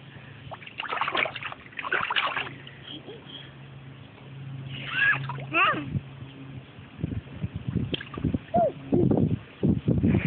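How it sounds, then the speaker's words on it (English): A toddler splashes water in a small splash pool, with intermittent soft splashes and sloshing close by, mixed with a child's vocalizations and an adult talking throughout. "Aria, splash some more."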